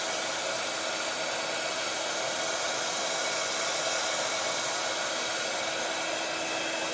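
A heat tool blows a steady, loud whooshing airflow while melting embossing powder on mirror card, an unbroken hair-dryer-like hum lasting throughout with no speech.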